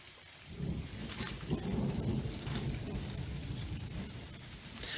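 Steady rain falling outdoors in the south of France, a continuous broadband wash of drops that stays fairly loud and even throughout, with no voices.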